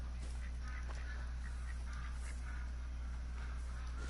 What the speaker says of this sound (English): I hear you, ducks.